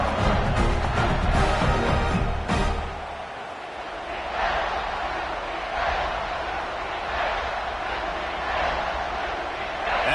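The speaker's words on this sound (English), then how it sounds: "The crowd's back in it" A football stadium crowd roars loudly for a few seconds, then settles into a steady, lower wash of cheering and murmur across the rest of the stretch.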